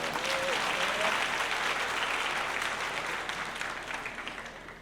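A crowd applauds at a Zulu chief's coronation ceremony, with dense, steady clapping that gradually fades toward the end, plus a brief vocal sound near the start.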